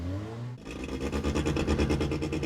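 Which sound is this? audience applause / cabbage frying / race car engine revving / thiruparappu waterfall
race car engine revving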